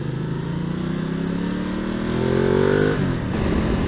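A Ducati Multistrada 1200S motorcycle rides in cold wind, its engine note climbing steadily in a rising rev over wind rush before easing off near the end, heard up close from the rider's position with no talking.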